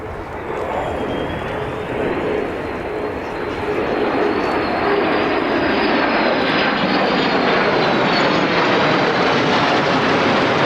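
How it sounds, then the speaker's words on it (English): US, Turkish and Romanian Air Force F-16 fighter jets fly past at an airshow, a loud sustained jet roar that swells and holds steady as the formation passes, with a faint voice beneath. "And the final wave of the Flypast, a US Air Force F-16CJ, Turkish Air Force F-16C, and Romanian Air Force"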